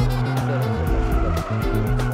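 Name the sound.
old car drifting sideways in racing video game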